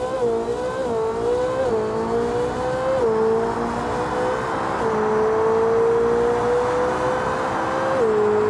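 Koenigsegg Jesko supercar engine in BeamNG.drive, a steady high-pitched whine that rises in pitch several times as it shifts gears, loud and continuous throughout with no talk.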